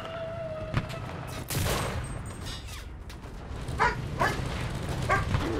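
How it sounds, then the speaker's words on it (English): A dog barks in short bursts within the Enlisted Pacific War video game, mixed with gunfire and battle noise; the barks come scattered and fairly faint, with no voices. "Got a barking doggo."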